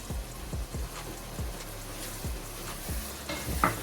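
Homemade masala for Korean chicken stirred in a hot pan, a spoon scraping in steady repeated strokes about twice a second over a soft sizzle, close and clear with no talking.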